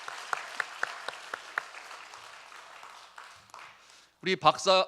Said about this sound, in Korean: 뜨거운 박수로 감사를 표했으면 좋겠습니다